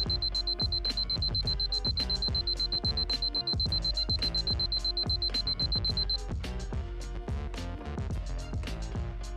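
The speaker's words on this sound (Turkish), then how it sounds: "Cansu üst üste 10 alarm kuruyor." An alarm clock rings loudly in a rapid repeating electronic pattern, a high steady tone sounding over it for the first several seconds.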